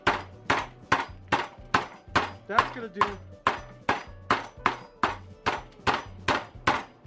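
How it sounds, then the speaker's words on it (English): A meat mallet pounds skirt steak in a steady rhythm of dull, thudding blows, about two per second, close up, with a brief voice partway through. "I'm going to take my meat hammer and pound out that skirt steak"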